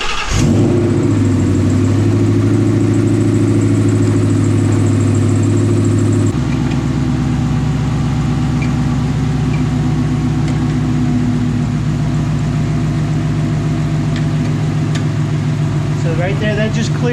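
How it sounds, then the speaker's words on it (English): After an alternator replacement, a car engine turns over and settles into a steady, loud, close idle that shifts to a lower, rougher tone partway through and runs continuously, with speech over it. "Let's see if we can crank this thing, and that's not have a belt squeal."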